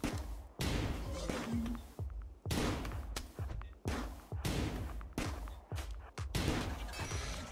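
Bursts of gunfire in the colony-building video game Rimworld, repeated sharp shots in rapid clusters separated by brief gaps, with people talking over the action.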